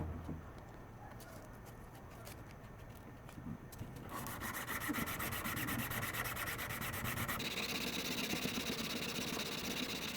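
Rusted scissors are sanded with 180-grit sandpaper, producing a continuous close rasping rub that grows louder and denser partway through, with a faint engine-like hum beneath.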